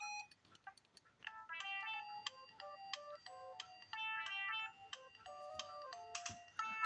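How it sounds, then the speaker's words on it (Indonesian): Polyphonic ringtone melody from a Siemens A55 mobile phone, bright chiming notes in a steady bouncy rhythm, played close and clear with no talking over it. "Ya ini ringtone-nya coba saya pilihin yang ini ya."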